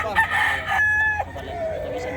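A gamecock rooster, Dirty Pit Gilmore type, crows loudly and close at the Bocaue pet market, one drawn-out cock-a-doodle call followed by fainter clucking.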